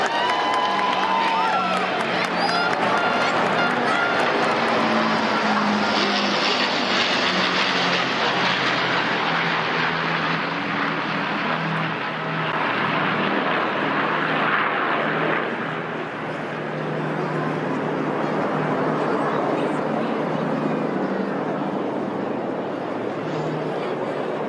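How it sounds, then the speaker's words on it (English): A Battle of Britain Memorial Flight Lancaster bomber, followed by an RAF Voyager and an A400M Atlas, passes overhead in a ceremonial flypast, a loud sustained engine drone that swells and fades over a cheering crowd, with people talking. "Battle of Britain Memorial Flight Lancaster saluting the King and Queen as they're followed by a Voyager and an A400M Atlas from the Royal Air Force"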